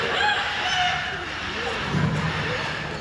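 A person's voice imitates a rooster's crow, a drawn-out wavering call close to the listener, with some background chatter, at Bird Paradise wildlife park in Singapore.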